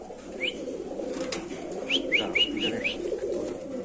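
Pet pigeons kept for sale make soft, faint calls nearby, with a few short, thin chirps bunched near the middle over a low background hum.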